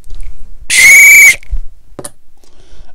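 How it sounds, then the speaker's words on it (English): A shrill, steady whistle blown once for about half a second, loud and close, followed by a brief click and quiet room background. "Oh, I might have a whistle here."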